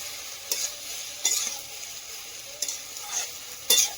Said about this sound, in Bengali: কাঠের জালে তরকারি রান্না করে শান্তি, কষানোটাও খুব দারুণ হয়